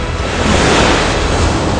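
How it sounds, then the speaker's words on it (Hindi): The flooded Narmada river roars as a dense, steady wash of rushing water, loud and close, with a wind-like rumble underneath and no voices. "अब हुंकार भरती नर्मदा की कुछ और तस्वीरें देखिए।"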